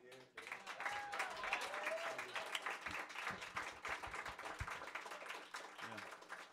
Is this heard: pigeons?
no